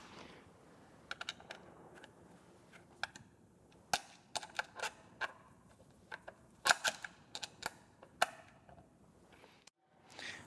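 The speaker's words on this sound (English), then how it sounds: "and tighten the screws." Screws are tightened on a camera mount for an AFC 100s PTZ head, giving sharp metallic clicks and ticks in irregular bursts, close and fairly quiet, with no voices.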